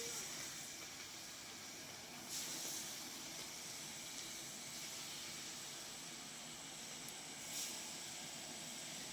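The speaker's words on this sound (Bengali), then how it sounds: "এখানে মাছ ভাজা হচ্ছে।" Fish frying in hot oil in a pan gives a soft, constant hiss that stays faint and even throughout, with slight swells now and then.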